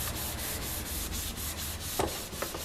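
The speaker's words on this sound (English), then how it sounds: "again with my sponge, put it in the middle, and you'll find that the Amaze is starting to take off a couple of those" A sponge with Amaze cleaner rubs black marks off a cupboard in steady, rapid back-and-forth strokes, close and continuous, with a couple of sharper scuffs near the end and no talk.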